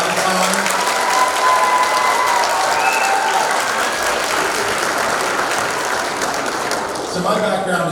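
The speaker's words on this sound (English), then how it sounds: "a special round of applause for Mrs. Foreman." Audience applause at a middle school spring concert, dense and loud clapping that fills the whole stretch with a faint murmur of voices mixed in.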